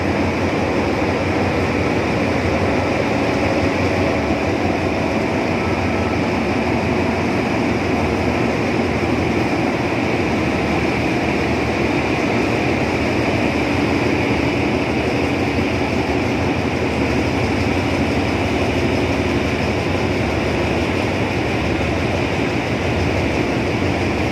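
Hitachi diesel locomotive train at Chiang Mai railway station, a steady, loud, continuous rumble of engine and rail noise lasting throughout with no talking.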